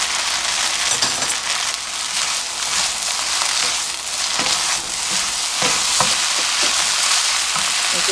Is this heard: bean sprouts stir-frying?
yes